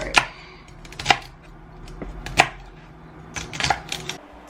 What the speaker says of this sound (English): I'm just chopping this up in kind of large pieces